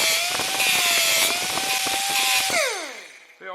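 An angle grinder works rust on the rear door of a Mercedes W109/W108 with a loud, steady high whine and broadband grit, then spins down at the end. Its pitch falls away before a short scrape returns.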